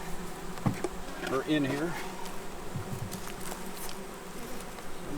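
Honey bees from a package buzz steadily around a hive during installation, a dense insect drone close by with faint handling sounds and a brief word spoken over it.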